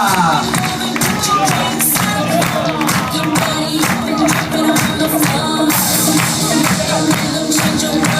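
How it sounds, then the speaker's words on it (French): A loud crowd claps, cheers and whoops continuously for the entertainment team being presented at the Club Lookéa Playa Djerba resort, with a dense, unbroken roar of applause from start to finish. "on applaudit très fort toutes les filles du Play Turba."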